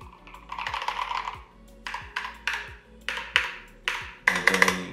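Loud, unlubricated switches on a pre-built Glorious gaming mechanical keyboard are pressed in uneven bursts of clacky keystrokes, with sharp clicks and a slight ringing ping, close up and without speech.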